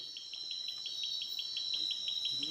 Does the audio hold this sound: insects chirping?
yes